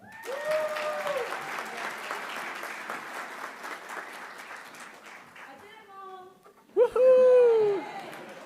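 A large crowd applauds at a University of Wisconsin-Madison School of Education spring pre-commencement breakfast honoring graduates, a dense, steady clapping that lasts several seconds before fading, followed by a brief whimpering, whistle-like tonal sound.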